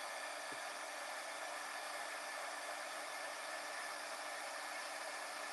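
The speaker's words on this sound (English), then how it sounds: "cover this up before I heat emboss" A heat embossing tool blows hot air over embossing powder on a card, giving a steady, close, unbroken whirring hiss that holds at an even level throughout with no talking.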